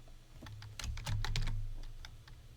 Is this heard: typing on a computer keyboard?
yes